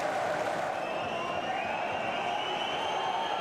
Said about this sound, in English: Crowd pleading for the full-time whistle